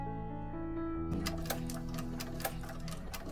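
Sewing machine running steadily while a piping foot attaches piping along a bag seam, a close, continuous mechanical whir with rapid rhythmic needle clatter, no talk over it.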